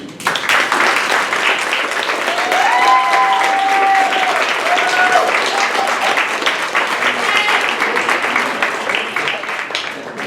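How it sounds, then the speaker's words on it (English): A storytelling-event audience claps steadily for a storyteller named Yogi, a loud, continuous wash of applause lasting about ten seconds with a few brief voices or whistles mixed in. "Keep clapping for Yogi."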